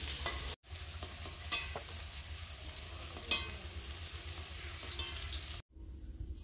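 Chicken meat fries in a pot, giving a continuous close sizzle with a few stirring knocks, briefly cut off near the start and again before a quieter ending.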